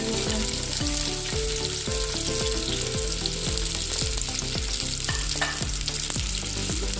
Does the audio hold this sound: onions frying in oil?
yes